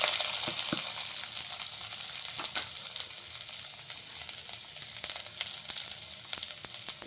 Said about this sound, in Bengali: তো আমার তেলটা গরম হয়ে গেছে, এবার আমি পরিমাণ মতো পেঁয়াজ দিয়ে দিলাম।